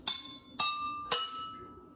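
Three water-filled drinking glasses struck in turn, each ringing out a clear, bell-like note that decays slowly, one strike roughly every half second, close and fairly quiet.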